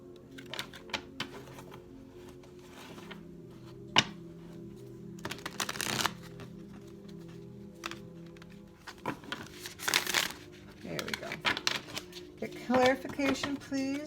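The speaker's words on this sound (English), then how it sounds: "I'm going to give it one more shuffle." A thick tarot card deck being shuffled, giving bursts of close, riffling card clatter in uneven clusters while a voice talks quietly in between.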